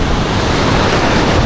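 Ocean surf washes continuously onto a black sand beach in Bali, a broad, steady roar of waves with wind buffeting the microphone.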